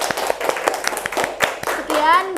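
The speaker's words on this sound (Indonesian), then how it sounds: "Terima kasih, tepuk tangan." An audience claps after a group presentation at a university teaching session, a run of individual hand claps with a loose rhythm, close and clear, with voices talking over the end.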